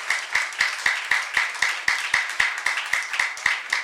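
A church youth congregation claps in a steady, even rhythm, about three claps per second, moderately close and without talk.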